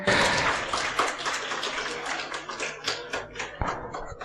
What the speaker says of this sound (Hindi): भरपूर तालियां होनी चाहिए इस टीम के लिए